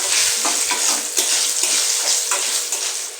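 Dried chilies, panch phoron and radhuni spices frying in hot oil make a loud, steady sizzle with crackling bursts and a stirring scrape throughout.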